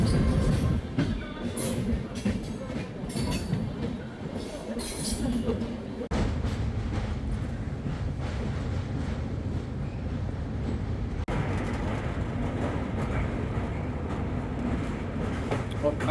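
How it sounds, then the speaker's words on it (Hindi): The New Delhi–Mumbai Central Duronto Express runs on rails, heard from inside a 3AC economy coach: a continuous rumble and rattle of wheels and carriage, with someone talking over it. "शायद इसीलिए हमारी ट्रेन भी बहुत कॉशियसली ट्रैवल करे"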